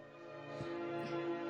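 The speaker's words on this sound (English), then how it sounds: "Those bells?" Church-style bells ring in a scene from the TV drama LOST, sustained tolling tones layered under a steady musical drone, moderately loud and continuous throughout.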